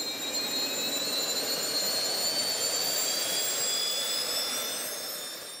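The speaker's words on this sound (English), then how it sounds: "Warming up the engines takes about 90 seconds." Jet engines of a jet-powered flying suit warm up with a loud, steady roar and a high, slowly rising whine, holding constant throughout before easing off slightly at the end.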